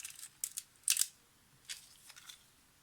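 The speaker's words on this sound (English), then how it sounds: "When the shutter is cocked," A Yashica FR-1 35mm SLR has its shutter cocked, giving a few quiet, crisp mechanical clicks and a short ratcheting burst spread over a couple of seconds in an otherwise silent room.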